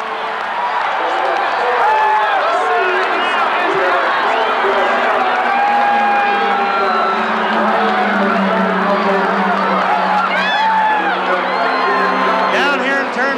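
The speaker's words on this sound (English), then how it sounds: "You should hear the crowd." A huge Indianapolis 500 crowd roars and cheers continuously at the 1994 race after Emerson Fittipaldi hits the wall, a dense, loud wash of voices and whoops with talk over it.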